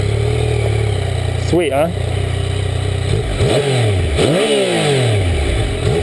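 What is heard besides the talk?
2014 Yamaha FZ-09 motorcycle engine starting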